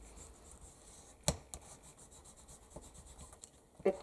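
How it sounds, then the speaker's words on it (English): A bone folder rubs over double-sided tape stuck at the edge of a paper journal page, giving a soft, close scraping swish with a couple of sharp taps, quiet and with no voices. "I'm just going over my bone folder with it"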